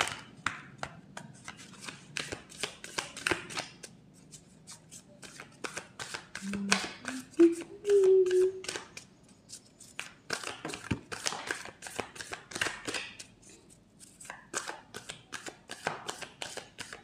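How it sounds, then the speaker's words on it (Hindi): Tarot cards are shuffled by hand in repeated crisp riffling bursts and flicks, close and fairly quiet, with brief pauses between runs and faint soft talk. "एक कार्ड और निकाल लेते हैं कि क्या एनर्जी है, एक कार्ड और क्लियर करने के लिए।"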